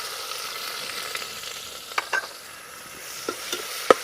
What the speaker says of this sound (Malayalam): ഉള്ളി നന്നായിട്ടൊന്ന് വാടി വരട്ടെ